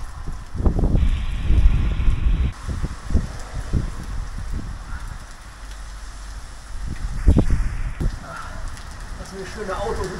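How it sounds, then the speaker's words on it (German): Gusty wind roars in bursts across an outdoor microphone during cold, rainy weather on a long bicycle trip toward Karlsbad, with rough low rumbles rising and falling under a steady hiss. "Und das fängt an zu winden auch noch. Der Wind macht das auf jeden Fall nicht besser."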